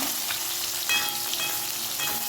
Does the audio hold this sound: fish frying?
yes